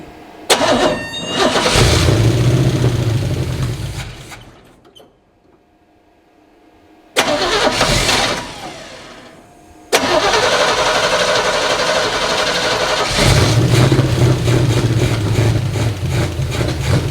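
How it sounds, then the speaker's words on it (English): A Chevrolet C20 project truck parked for 15 years is cranked repeatedly. Several loud, close bursts of starter churning are separated by near-silent pauses, and the engine sputters and roars into longer runs near the end. "let's go ahead and crank on her some more and see what happens"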